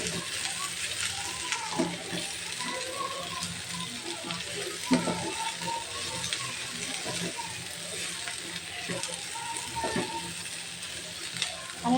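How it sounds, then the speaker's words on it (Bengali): Potato and pointed gourd pieces fry lightly in a little oil, a continuous close crackling sizzle with scattered clicks and scrapes from stirring. "একসাথে আলু আর পটলটা আমি একটু হালকা ভেজে নেব।"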